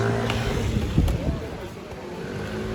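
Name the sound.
Ruf CTR sports car engine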